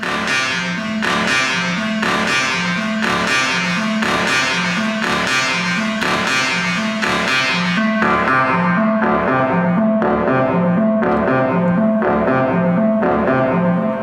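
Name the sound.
synth sound with reverb effect applied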